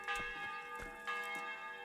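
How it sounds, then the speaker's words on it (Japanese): Loud bell ringing in Kingdom Come: Deliverance, heard in the town of Sasau: sustained metallic tones with repeated strikes roughly every half second, close and continuous. "鐘うるさいですね、しかし。"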